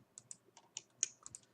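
Keystrokes on a computer keyboard as a number is typed in, about a dozen light, separate clicks spaced irregularly over a quiet background, close and fairly soft.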